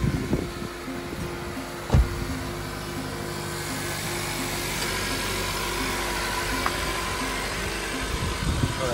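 Car engine idling steadily while it charges another car's weak battery during a jump-start, a close continuous low rumble with a brief knock near the start, no talking.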